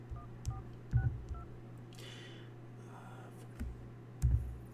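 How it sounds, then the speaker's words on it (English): A telephone number is dialed as a series of short tonal beeps, with several clicks and thumps of handling mixed in, fairly close and quiet. "I'm calling him right now."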